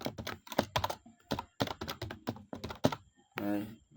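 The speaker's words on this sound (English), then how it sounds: "Then you can type your email, right?" Keys on a computer keyboard clatter in short rapid bursts as an email address is typed into a simple e-commerce booking form, close and moderately quiet, with talk heard over the typing.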